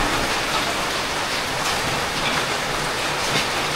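Steady rain falls in a continuous, even hiss that lasts throughout at constant loudness, with no voices.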